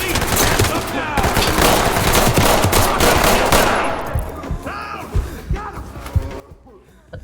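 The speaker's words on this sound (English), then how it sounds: "Wait, where are they shooting at?" Dense automatic gunfire rattles in the Ready or Not tactical shooter, rapid bursts layered over one another for several seconds before thinning into scattered shots, with voices talking underneath.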